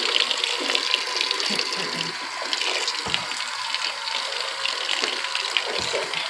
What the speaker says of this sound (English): we're gonna turn on the water again so it can start filling up